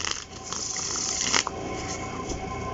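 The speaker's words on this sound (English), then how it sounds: "so let's try to shuffle the cards" Thin tarot cards riffle-shuffled by hand, a close, steady papery flutter lasting a few seconds with a brief snap near the end.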